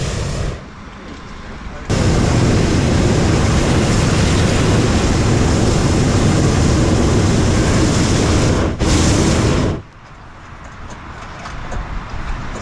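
Hot air balloon burner roaring close by, a loud broadband blast lasting about eight seconds with a brief cut near the end, then falling back to quieter ambient sound.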